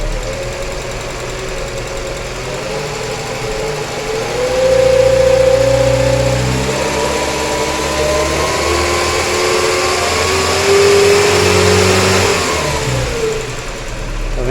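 A car engine fitted with a Weber 460 carburetor revs up steadily and gradually, holding a loud, rising drone for several seconds before easing back toward a settled idle.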